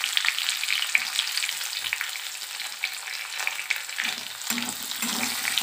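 A medium onion, chopped small, sizzles in a pan with a bay leaf for palak paneer, a steady close crackling fry with occasional stirring scrapes.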